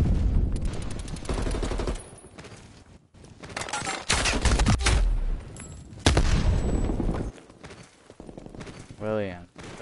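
Dense, loud bursts of gunfire from the video game Warzone, with rapid automatic volleys and sharp single shots coming in clusters, broken by short pauses, while a player talks over parts of the action.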